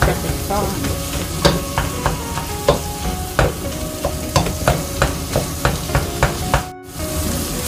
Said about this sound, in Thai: ใช้ตัวช่วยนะคะให้หมูกระจายไม่ติดกับเป็นต้อน